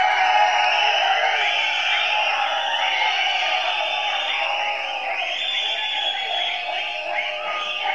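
A large audience at the Garudan audio trailer launch cheers, whistles and shouts to welcome actor Soori, a loud, continuous roar of crowd noise throughout.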